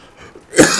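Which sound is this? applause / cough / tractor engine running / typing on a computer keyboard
cough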